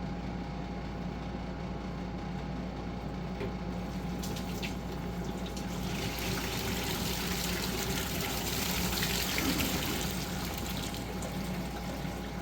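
Water surges steadily up out of a household sink drain while a clog is being cleared, a continuous near rush and splash lasting throughout with no voices.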